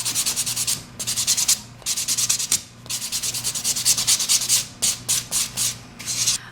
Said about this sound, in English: I'm going to go to your 180 side, gently buff.